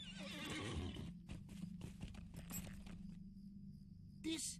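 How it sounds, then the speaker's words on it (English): A horse whinnies loudly and then its hooves clip-clop in a quick rhythm in the Lord of the Rings Online video game, ending with a short snort; no one speaks over it. "I might hop on our horse, actually."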